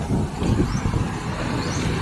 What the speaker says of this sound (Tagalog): Grabe kahangin. Mahangin sa labas.